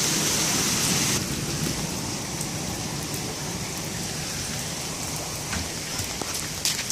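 Heavy rain pours in a dense, constant hiss, loud and close, with occasional louder drips and spatters.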